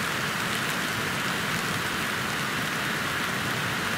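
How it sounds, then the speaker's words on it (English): Steady rain drums on a tent pitched beside a river, a dense, even hiss that runs unbroken and fairly loud throughout, with no voices. "It can rain as much as it wants."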